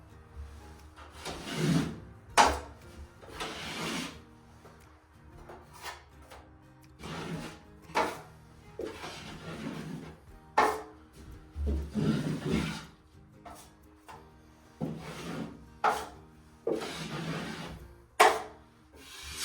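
A trowel loads and spreads drywall mud into a sheetrock corner, giving soft, close scraping and smearing strokes in irregular bursts with pauses between them.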